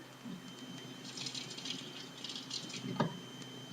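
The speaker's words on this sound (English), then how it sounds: "what I'm going to do is just add a little bit of water" A little water is added to a chia energy bite mixture, giving a soft rattling, splashing pour with a faint gush near the end, close and fairly quiet.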